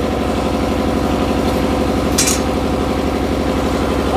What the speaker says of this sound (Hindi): तो फ्रेंड्स हमारे पास जनरेटर है, तो हम जनरेटर से करंट इसमें स्टार्ट करेंगे